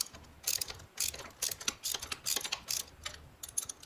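A ratchet wrench tightens a bolt on a Yamaha FJ-09 motorcycle exhaust during a Black Widow exhaust install, giving quick bursts of close, crisp clicking in an irregular rhythm, with no talk.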